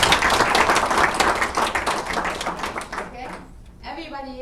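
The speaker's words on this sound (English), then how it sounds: "I think she needs a clap" Audience at a horse racing federation general assembly in Marrakech clapping for a speaker, a dense burst of many hands for about three seconds before thinning out and stopping, with a voice returning at the end.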